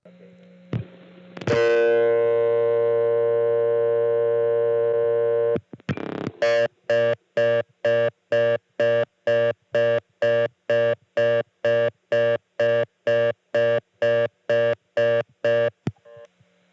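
A 1976 coin telephone in Birdsboro, Pennsylvania returns a blocked-call signal after 1 is dialed: clicks, a long steady tone, then a fast series of regular interrupted beeps repeating evenly to the end.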